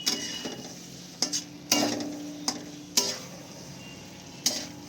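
Eggs are stirred gently in a frying pan for chilli egg, with soft sizzling underneath and several sharp clicks of the utensil against the pan spaced a second or so apart, fairly faint and without talk.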